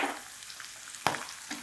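Ginger, garlic and green chilli sautéing in a pan for pirandai thuvaiyal, a soft continuous sizzle with a sharp utensil knock partway through.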